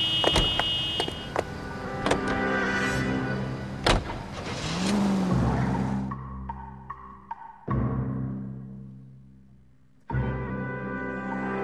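A car in the video game L.A. Noire hums along with a rising and falling engine drone and a few sharp clicks. The engine fades to a low idle, then a fresh burst of engine noise returns.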